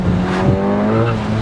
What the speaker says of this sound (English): But with the tyre squeal.